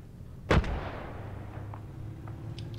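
A single heavy artillery shot fires HE rounds in the Project Reality military game. One sharp, booming report is followed by a rumbling tail, with a low hum running throughout.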